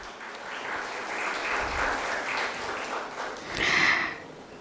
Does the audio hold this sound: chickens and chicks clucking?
no